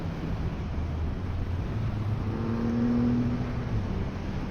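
A Triumph Rocket 3 R motorcycle engine drones steadily while riding, with rising tonal whine as it accelerates, mixed with wind rush and no voices.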